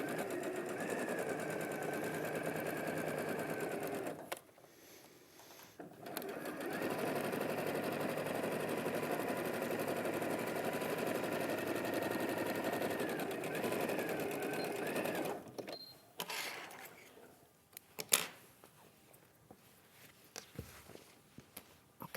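A sewing machine stitches fabric in a long, steady, fast run. It pauses briefly, resumes, then stops for rustling and handling noises near the end.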